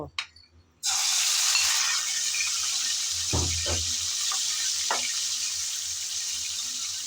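Fish fat rubbed with turmeric and salt hits hot oil in a pan with a sudden loud sizzle after a short pause, then a steady close frying hiss with a couple of soft clinks from the pan.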